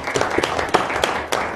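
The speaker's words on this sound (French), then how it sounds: "Je pense qu'on pourrait faire une main d'applaudissement pour l'implication des parents." Applause at a municipal council meeting in Rouyn-Noranda, a brief burst of scattered hand clapping from a small group in a room, moderately loud and fairly sparse.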